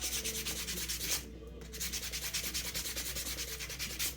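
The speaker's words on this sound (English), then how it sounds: "Right now I'm just trying to sand out the gouges that vice's teeth put in the side of this bait." A wooden crankbait body is sanded by hand to smooth out vice gouges, a rapid rhythmic rasp of quick back-and-forth strokes with one brief pause, close and steady, with no talking.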